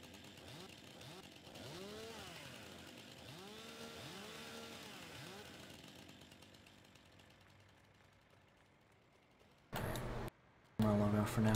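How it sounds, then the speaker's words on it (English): Chainsaw in Farming Simulator 2019, a revving motor whose pitch rises and falls in repeated sweeps for about six seconds, then fades, with brief loud bursts of other sound near the end. "let me test my chainsaw on you"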